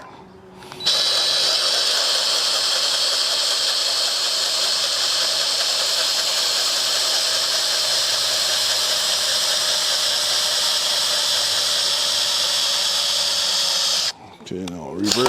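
Power drill boring into the ground to cut in for rebar pins at a shed site, a loud, steady high-torque whine running unbroken for about thirteen seconds before stopping abruptly, with a brief clunk afterward.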